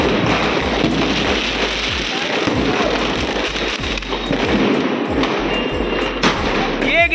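A Diwali sky shot firecracker firing 30 shots outdoors, with rapid repeated bangs and crackles in a dense continuous volley, loud and close, with voices faintly underneath.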